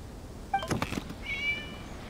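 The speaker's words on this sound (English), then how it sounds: "It was just a cat." In a video game, a cat gives a short meow, followed by a soft thump and then a longer, drawn-out meow, clear and close with no talking.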